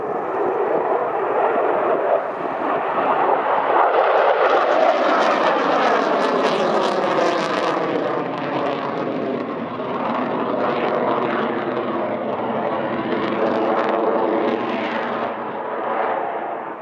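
Eurofighter Typhoon jet performing a flying display at the British Grand Prix at Silverstone, a loud sustained roar that swells and sweeps across as it passes, with rumbling crackle throughout and no talk.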